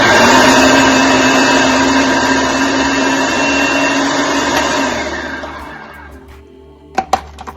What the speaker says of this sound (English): If you have a blender like mine, you want to hit puree.